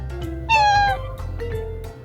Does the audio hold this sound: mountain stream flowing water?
no